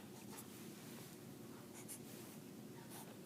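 A pen or marker scratching steadily as a velocity versus time graph is sketched, a soft, close, continuous scraping with a few brief strokes, with no speech.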